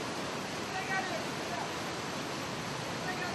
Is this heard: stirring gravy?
no